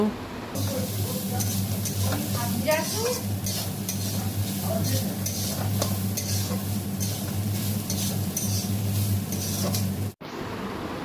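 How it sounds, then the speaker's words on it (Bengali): Fried chickpeas and grated coconut stirred in hot oil in a pan, a steady close sizzle with repeated scraping strokes of a spatula, loud and continuous until a sudden stop near the end. "সবকটাকেই তেলের মধ্যে একটুখানি নাড়াচাড়া করব"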